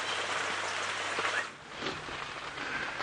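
Steady rain falls during a wet early-morning safari drive in Sabi Sands, a dense, continuous hiss of drops on surfaces with a slight dip midway, heard alone without any talking.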